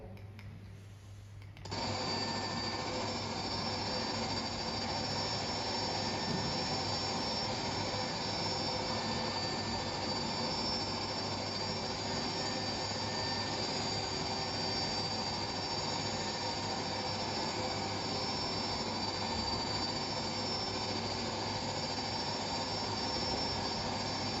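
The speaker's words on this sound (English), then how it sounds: "Puma helicopter, and we're flying down a valley in Morocco at about 50 feet" Loud, constant turbine whine and rotor roar from inside a Puma helicopter flying about 50 feet low down a valley in Morocco, steady and unbroken for a long stretch, no voices.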